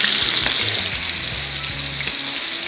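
Fish frying in oil in a non-stick pan, a loud steady sizzle that continues throughout with faint clinks of stirring or handling underneath.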